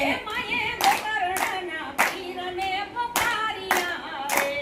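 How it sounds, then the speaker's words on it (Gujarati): Rhythmic hand clapping keeps time with a Gujarati devotional song, a series of sharp, evenly spaced claps over steady background music. "હે તાળી પાડો લીરબાય મના નામની રે"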